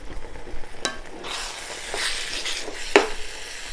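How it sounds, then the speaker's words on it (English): Food being stirred in a Hexclad pan on low to medium heat, a soft scraping sizzle with a few light utensil clinks, close and fairly quiet, no talking. "Let me give that a little stir."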